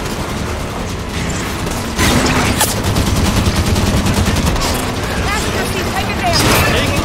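Loud, dense automatic gunfire rattles through a battle in the video game Halo 5: Guardians, with bursts layered over rumbling background noise and voices shouting amid the shooting.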